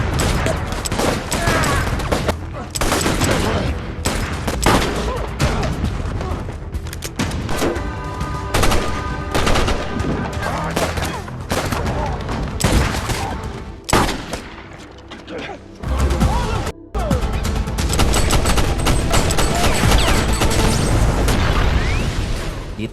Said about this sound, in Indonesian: Hingga terjadilah aksi tembak-tembakan.